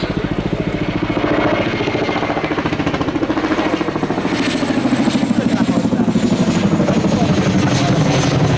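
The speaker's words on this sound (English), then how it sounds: "The display that you see today really showcases how manoeuvrable this extremely large helicopter is." A very large helicopter flying a manoeuvring display at the Royal International Air Tattoo 2017 air show gives a loud, continuous rotor thudding and engine roar that holds steady and swells slightly toward the end.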